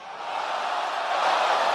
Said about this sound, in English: listen to how the reaction is of the crowd